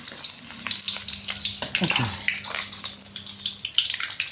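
Pork belly marinated in curry paste sizzles and crackles steadily as it deep-fries in a hot pan on a gas stove, with occasional stirring scrapes and a faint hum underneath.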